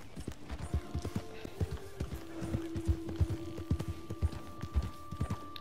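Video-game horse hooves clip-clop in a quick, uneven run of sharp, close knocks, with a faint tonal hum underneath.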